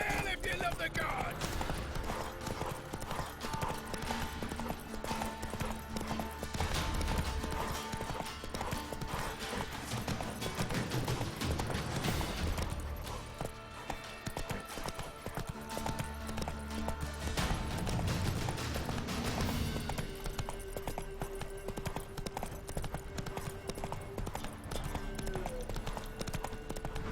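Roach, the horse in The Witcher 3, galloping with rapid, rhythmic hoofbeat clip-clops running throughout, mixed with game music and battle noise while voices speak over it.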